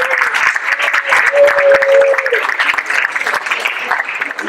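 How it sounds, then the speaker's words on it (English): Audience applause at a spring high school choir concert, steady clapping throughout with a brief tonal whistle-like sound early on. "Are you clapping because I was done talking?"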